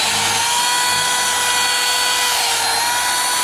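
A Ryobi One Plus cordless vacuum running close up while cleaning the carpet inside a Subaru STI, heard as a loud, steady high-pitched motor whine with whistling airflow throughout.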